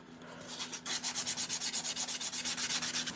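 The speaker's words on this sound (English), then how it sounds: "when you start sanding, it looks like cracked out pieces of concrete" Sandpaper rubbed back and forth on XPS foam for miniature sidewalk tiles, a rapid steady run of close scratchy strokes, about six per second, with a faint hum underneath and no talking.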